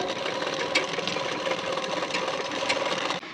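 Close and loud, a sewing machine stitches along the folded placket of a boat-neck blouse in one steady run of rapid needle beats, with no voices, cutting off at the end.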